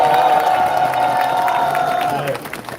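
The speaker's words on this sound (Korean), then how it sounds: "동의하시면 박수 한번 쳐주십시오." Crowd at a Democratic Party election campaign launch rally in Incheon breaks into cheering and applause, a dense wash of clapping and shouts with a whistle-like tone, fading out near the end.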